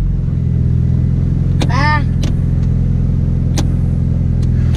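Car engine idling steadily while warming up at a shop, a loud continuous low rumble throughout, with a few short clanks and a voice speaking briefly over it.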